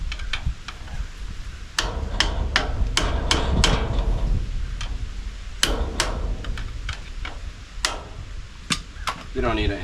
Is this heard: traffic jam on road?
no